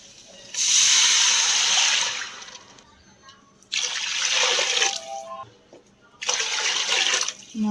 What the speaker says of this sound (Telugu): ఇంకా ఇట్లా ఈ చెంచాతో వాటర్ వేసుకుందాం.